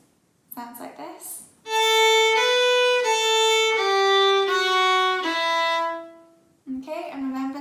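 Solo fiddle plays a phrase of the Manx tune Myr Shenn Ayr, a sustained, steady run of bowed notes stepping in pitch, close and clear, with brief talk before and after.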